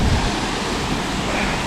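A waterfall near Munnar, Kerala, roars as a dense, steady rush of falling water, loud and close, with no pauses.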